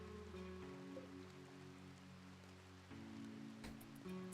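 Steady rain falls outdoors in the colony-building video game RimWorld, a soft continuous patter with low in-game music tones running beneath it and no talk.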